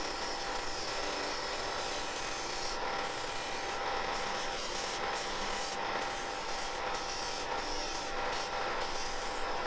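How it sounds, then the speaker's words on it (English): A disc sander rounds the edges of a wooden candle holder, giving a steady, close, continuous abrasive rushing with a constant motor whine and brief scraping bursts as the wood presses against the disc. "It's at the disc sander now, and I'm just rounding off those edges now, back down to the line"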